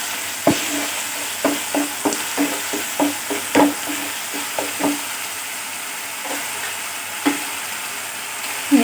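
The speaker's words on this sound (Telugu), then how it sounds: "ఇది కొంచెం ఎరిగా ఫ్రై చేసుకోవాలి." Fish curry ingredients fry in a pan while a spoon stirs them, each stroke giving a sharp scrape over a steady close sizzle, the strokes coming in a quick irregular series with no talking.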